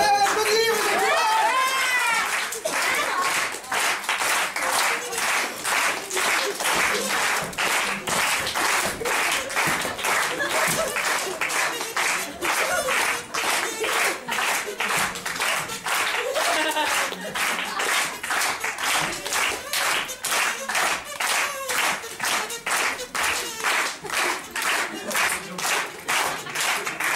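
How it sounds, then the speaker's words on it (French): Audience at a theatre and improvisation festival clapping in a steady, sustained round of applause, fairly close and continuous throughout, with a voice heard briefly at the start. "Allez, on applaudit, vous êtes là."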